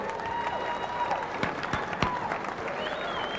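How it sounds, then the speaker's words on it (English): Applause and crowd cheers greet the unveiling of an NBA Fast Break pinball machine, steady clapping from a modest group with some voices mixed in. "let's have a round of applause for NBA Fast Break"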